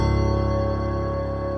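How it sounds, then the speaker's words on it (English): Omnisphere bell layered with a Keyscape piano in a dark trap melody, a sustained ringing chord that holds steady and bright, loud and close, with no talking. "we got the bell that I showed you before from Omnisphere, together with the piano from Keyscape"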